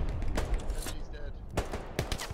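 Machine gun fire in the Hell Let Loose battlefield game comes as several short, punchy bursts under ongoing talk and radio-style chatter.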